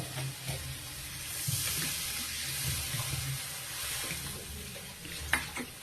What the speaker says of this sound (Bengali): এবার এর মধ্যে আমি দিয়ে দিচ্ছি অল্প জল।